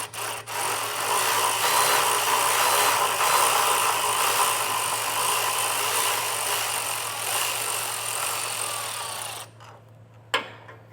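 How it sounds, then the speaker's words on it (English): Ratcheting 13mm socket working a bolt free from an exhaust hanger under a 2023 Jeep Grand Cherokee, a steady close-up grinding and rubbing of metal that runs continuously before stopping, followed by a brief clank. "With a 13mm socket, I'm just going to remove the bolt that holds on our hanger."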